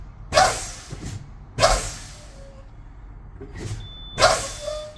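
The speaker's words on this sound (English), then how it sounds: "So I'm going to pump the brakes down, and I want to see when the lights come on and the buzzer." Truck air brakes pumped down during a Class A pre-trip inspection, with four sharp pneumatic hisses spaced about a second apart and a faint steady warning tone entering near the end.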